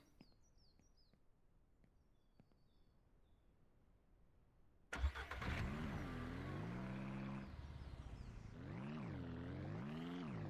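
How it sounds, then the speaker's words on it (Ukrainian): Car engine starting in the video game Ranch Simulator: after quiet birdsong, the engine cranks and catches abruptly, then settles into a loud, rumbling idle with rising and falling revs. "по звичці вже пробую завести автомобіль на клавішу B"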